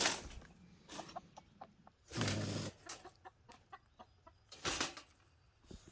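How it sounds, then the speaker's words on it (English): Backyard chickens cluck and squawk near a trapped raccoon, short scattered calls with a few louder bursts of noise between them, close by and fairly quiet overall. "I want to see how the chickens react to it, though."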